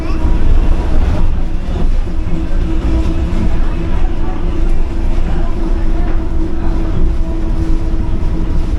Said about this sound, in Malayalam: ആ വളഞ്ഞ വളരെ ടൈറ്റ് ടേൺസ് ആണ് ഈ ട്രെയിൻ എടുക്കുന്നത്